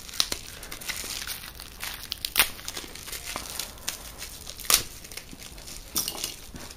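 Hard taped parcel packaging crinkles and tears in sharp, irregular bursts, close up, with occasional louder rips and no talking.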